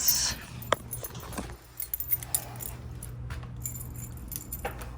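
A bunch of keys jangles in a student apartment in Tempe, Arizona, with sharp metallic clinks and rustles in short bursts over a quiet indoor background.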